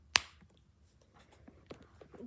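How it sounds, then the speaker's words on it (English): A single crisp finger snap, close and sharp, followed by faint scattered handling noises in an otherwise quiet room. "Okay, I'll snap my fingers again."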